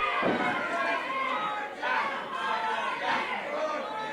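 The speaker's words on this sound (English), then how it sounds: "Crowd cheering for him, trying to give him their strength." A pro wrestling crowd cheers and shouts during a match in an arena, a busy roar of many voices rising and falling in swells, with scattered yells and chatter mixed in.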